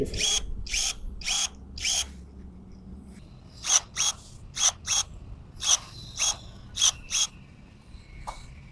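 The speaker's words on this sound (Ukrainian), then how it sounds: "Має даний секатор чіткий та чистий різ професійний сікатор" EMTOP cordless pruning shears make a series of about a dozen sharp motorized cutting snips, each a brief whirring chop. The first few come quickly together, then evenly spaced ones follow at close range with no talk.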